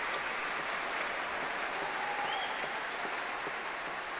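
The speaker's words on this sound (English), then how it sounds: "That's a cheer for the Monteverdi Choir, standing in three rows at the very back of the platform." A concert hall audience at a Beethoven Ninth Symphony performance applauds and cheers the Monteverdi Choir, steady dense clapping throughout with a few whistles and calls, no talking.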